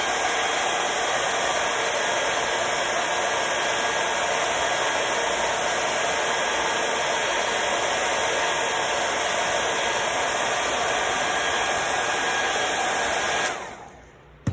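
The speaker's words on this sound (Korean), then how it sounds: "다시 이제 배터리가 있는 부분을 드라이기로" A hair dryer blows a steady, loud whoosh with a constant high whine onto the battery area of a Galaxy Note 10 phone during disassembly, running unbroken for about thirteen seconds before cutting off abruptly.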